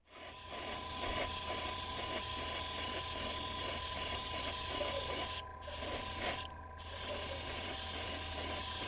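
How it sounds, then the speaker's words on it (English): An airbrush sprays paint onto interior parts of a 1/24 Aoshima Liberty Walk Lamborghini Huracan model mounted on sticks. It makes a steady, close hiss that cuts out twice briefly near the end. "all the interior parts were cleaned, attached to the sticks and ready for airbrushing the necessary colors"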